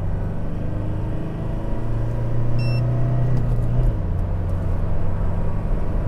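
A 2021 Toyota Revo 2.4 Z-Edition pickup accelerates hard with a loud, steady engine drone and road rumble inside the cab. The engine note climbs, then drops at a shift and carries on pulling.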